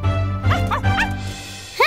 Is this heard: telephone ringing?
no